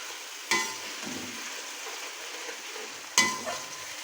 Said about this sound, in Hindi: अब इसमें हम शामिल करेंगे अदरक लहसुन का पेस्ट। ये देखें, इसको भुनाई करेंगे थोड़ी सी।